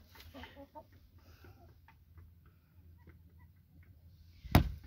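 Brahma chickens and roosters in a coop during egg collection, soft scattered clucks at moderate distance, ending with a sudden loud close knock or clatter.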